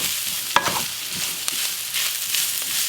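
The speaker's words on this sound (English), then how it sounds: "I'm going to just mix this around lightly till it cooks in a little with the ground beef and vegetables, peppers and onion of course" Ground beef with peppers, onion and other vegetables being stirred in a pan, a soft steady sizzle with a few scraping utensil knocks against the pan, close and without talk.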